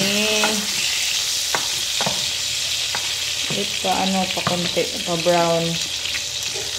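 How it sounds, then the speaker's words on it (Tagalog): Steady loud sizzle of meat frying in oil, with utensil clinks and scraping as it's stirred and a faint voice beneath. "mag-prito na tayo. Later, kasi may lumabas na ang kanyang mantika"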